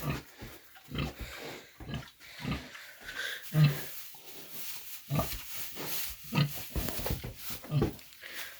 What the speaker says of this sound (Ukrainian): Ось така свинка у нас.